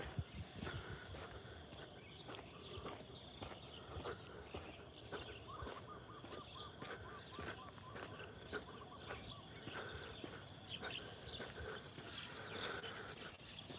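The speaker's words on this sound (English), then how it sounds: "Wow. Birds." Birds chirp and sing in scattered calls across an outdoor Sunday morning ambience in Northern Thailand, with insects buzzing steadily in the background and occasional rustling.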